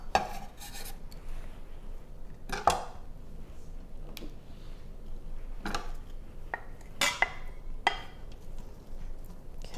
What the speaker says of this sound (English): we're going to go ahead and cook our onions and our bacon together